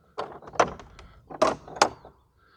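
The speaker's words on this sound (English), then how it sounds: "If the door handle's a bit stiff, just give it a good turn" An old chapel door at St Peter's on the Wall, Bradwell-on-Sea, Essex, being opened, with a stiff handle turned, a latch clunk and wooden creaks and knocks over about two seconds, close and fairly quiet.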